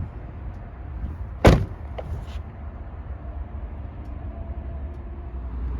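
An Audi RS7's door shuts with a single solid thump, close by, followed by a faint rattle and a steady low rumble of background noise, with no talking.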